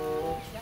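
A single chicken gives a short, close cluck with a slightly drawn-out, tonal call, briefly and alone.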